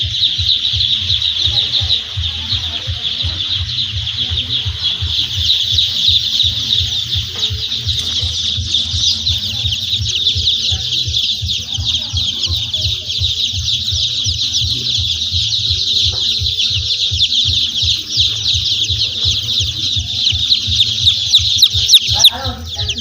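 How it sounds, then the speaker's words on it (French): About a thousand young chicks peep together in a poultry house, a loud, continuous high chorus of shrill calls filling the whole stretch, with a low hum underneath. "Nous avons au total 1060 poussins."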